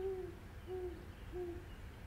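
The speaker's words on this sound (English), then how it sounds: "the owl lands softly on the outside ledge, hooting happily, having found its destination" A small brown owl hoots three times in an even, unhurried rhythm, each short call clear and moderately close, with soft background hush between them as it lands on an outside window ledge.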